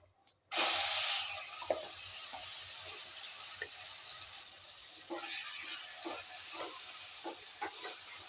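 Marinated mushrooms drop into a hot kadhai with crackled cumin, bursting into a loud sudden hiss that settles into a steady sizzle with faint stirring clicks, close by.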